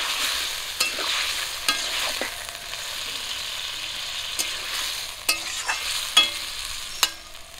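Fried yam and lata fish curry stirs and sizzles in a pan after a little water is added, with a steady hiss broken by scattered clinks of a spoon against the pan.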